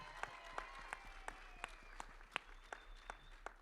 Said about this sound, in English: give them one more big, huge round of applause so they can hear you backstage